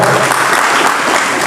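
An evening audience at a Malay syair recitation ceremony applauds, a loud, dense wash of clapping sustained across the whole moment without pause.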